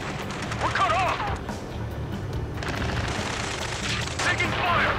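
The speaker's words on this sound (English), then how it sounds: "Taking fire! We're pinned down! Shoot back!" Rapid gunfire and explosions in the aerial combat video game Ace Combat 7, dense bursts under constant engine rumble while radio voices talk over it.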